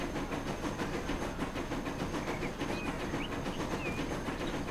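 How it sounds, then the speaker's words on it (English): A Soviet steam locomotive pulls a train past in Transport Fever, a transport simulation game, with a steady rhythmic clatter of wheels and chugging under continuous hiss, moderately loud and unbroken for the whole span. "here comes a Soviet engine"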